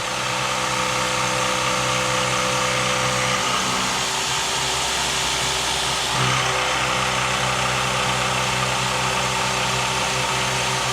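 A Bridgeport milling machine decks a workpiece surface flat with back-and-forth passes, giving a loud, steady motor drone and cutting whine that shifts pitch briefly midway, continuous and close.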